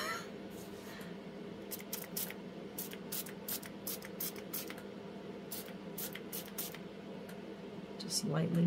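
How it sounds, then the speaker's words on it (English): Short bursts of a spray bottle spritzing alcohol onto resin, quick repeated spritzes in uneven clusters over a low steady hum, close and fairly quiet. "I'm kind of scared to spray it with alcohol."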